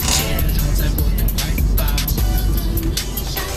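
A truck engine rumbles and revs steadily in Euro Truck Simulator 2, a loud continuous low drone with road noise throughout and no talking.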